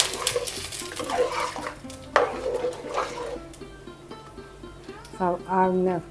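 Spoon stirring a pot of pumpkin and cowpea curry with coconut, giving scattered scraping and clinking knocks against the pot, with a voice speaking over much of it and a brief higher vocal burst near the end.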